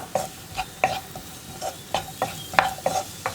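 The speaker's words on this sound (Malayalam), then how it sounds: "തക്കാളി ചേർത്തിട്ട് നന്നായിട്ടൊന്ന് ഇളക്കി കൊടുക്കുക" Chopped tomatoes are stirred into spice powders in a pan, giving a quiet, close run of about ten separate scraping and clinking strokes of a spoon against the pan.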